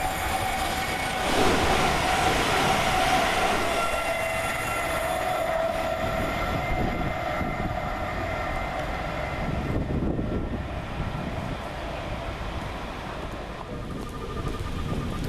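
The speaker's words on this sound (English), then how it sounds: "Running 8 minutes late is 222013, working 1 Bravo 34 from Nottingham to London St Pancras International." Class 222 diesel unit 222013 running on a Nottingham to London St Pancras International service, heard at Flitwick station as a steady, loud rumble and rail noise that builds and holds throughout, with no talk.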